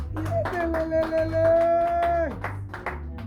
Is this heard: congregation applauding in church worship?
yes